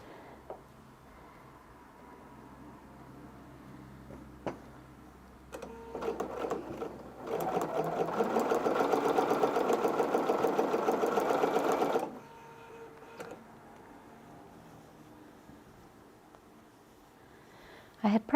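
A domestic sewing machine stitches a Christmas quilt, running in one loud sustained burst of rapid mechanical whirring for several seconds, framed by quieter handling clicks and faint room noise before and after.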